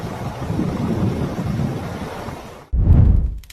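Rain shaft near Sedona, Arizona: a steady broadband rush of heavy rain and rumbling thunder, with a sudden loud low boom near the end.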